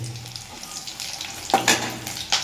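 Whole cumin, cinnamon, cardamom and cloves crackle in hot oil for a meat curry, a continuous close sizzle broken by a few sharp louder pops near the end.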